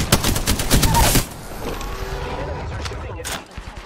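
Rapid bursts of gunfire in a shooter game crackle loudly for about a second, then fade into quieter distant shots and game noise, with a last sharp shot near the end.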